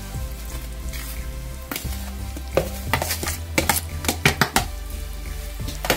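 Cashew powder is stirred into hot sugar syrup for kaju katli, a bubbling sizzle beneath a rapid run of sharp spoon-on-pan clacks that grow denser and louder toward the end.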